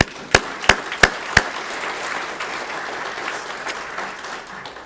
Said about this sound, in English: how about a round of applause for Dan?